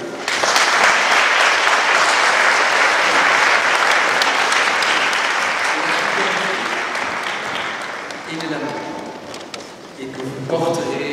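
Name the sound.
applause at a wedding ceremony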